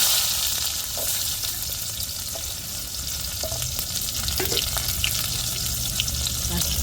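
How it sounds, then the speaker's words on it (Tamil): Mustard seeds and onion frying in hot oil give a steady, close sizzle with faint crackles and occasional stirring clinks; no voices are heard. "கடுகு இப்போ கடுகு சேர்த்துக்கிறோம் இப்போ வெங்காயம் சேர்த்துக்கிறோம்"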